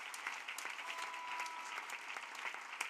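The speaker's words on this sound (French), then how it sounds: "Oui, acclamez. Yes, clap." A church congregation at a prayer and intercession gathering applauds, a dense steady wash of many hands clapping throughout, moderately loud and slightly distant.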